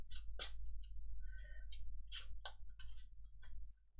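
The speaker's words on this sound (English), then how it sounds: "Shuffle your deck." A deck of Arkham Horror game cards is shuffled close by, with a run of crisp riffling snaps and soft card slides in uneven bursts over a low hum, and no talking.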